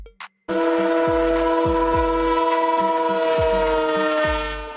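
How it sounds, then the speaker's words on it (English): A tanker train rolls past with a loud, sustained tonal horn blast over regular clickety-clack of wheels on rail joints, fading slightly at the end. "Tanker train."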